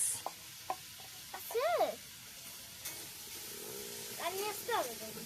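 Food is stirred in a pot over a wood-fired clay stove in a small kitchen, with soft scraping strokes and faint sizzling under a low crackle, while voices talk nearby.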